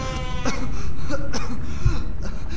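A character in the horror game MADiSON coughs and clears his throat in a few rough, close bursts, spread across a murky, droning background.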